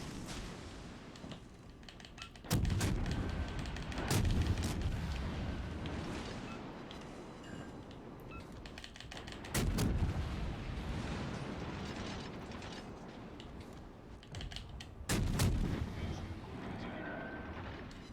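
Heavy battleship main guns fire in a World of Warships Legends naval battle, with several loud, booming salvos spaced a few seconds apart over a continuous background rumble of the engagement.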